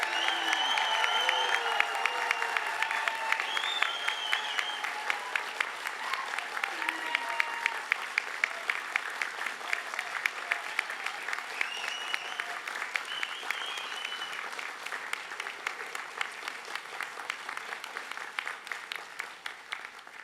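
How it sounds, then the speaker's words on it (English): Rousing applause from a graduation ceremony audience for engineering and IT graduates, a steady wash of many hands clapping that holds strong for the whole stretch and eases only slightly near the end. "I'd like the graduates to hear a rousing applause to show how proud you are of what they've achieved"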